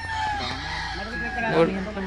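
Chickens and a rooster kept as pets cluck and crow close by in a pen, with people talking over them.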